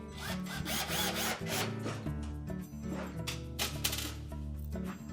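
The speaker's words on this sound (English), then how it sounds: "just install a couple of the screws to hold it in place" Power drill driving screws into the control panel of a Whirlpool oven during a light socket repair, with bursts of whirring motor and grinding rattle close by, brief pauses between runs, and no talking.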